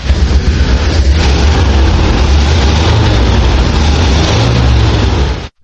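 The 6.75-liter V engine of a restored Rolls-Royce runs loudly and close up, with a continuous deep roar that holds steady before cutting off abruptly at the end.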